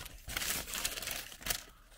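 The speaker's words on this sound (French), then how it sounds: "On va le déballer." Paper wrapping crinkles and rustles up close as a KFC Double Krunch fish sandwich is unwrapped, a few sharp crackles in quick succession, fairly quiet.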